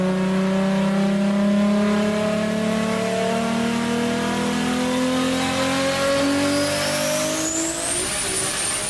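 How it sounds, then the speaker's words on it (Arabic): A fully built Toyota Supra with a 2JZ engine and a huge turbo revs hard on a dyno, a loud sustained engine roar climbing steadily in pitch as it accelerates, with a high turbo whine rising near the end. "طبعا بمحرك ال 2 جي زي الأسطوري اللي اتعمل له بيلد بالكامل مع تربو عملاق"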